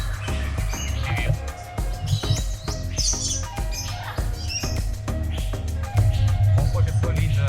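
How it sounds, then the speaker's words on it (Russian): Birds in a Kuala Lumpur bird park, a parrot among them, give repeated chirps and squawky calls over a busy background with a steady low hum. "Вон, смотри, наверху попугай сидит."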